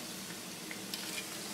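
Ravioli are lifted out of a pan of hot frying oil, which keeps up a steady, moderately close sizzle and bubbling throughout, with a few faint clicks of a utensil against the pan.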